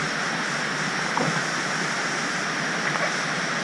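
Steady broadband rush of falling water at Siligi waterfall in eastern Sulawesi, continuous and fairly close, with a couple of faint brief knocks partway through.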